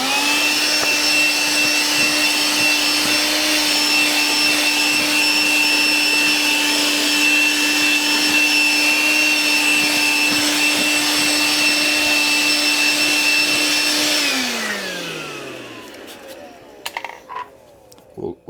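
A Milwaukee M12 handheld vacuum cleaning a floor mat whines steadily at close range for about fourteen seconds, then powers down with a falling pitch, followed by a few faint clicks and handling noises.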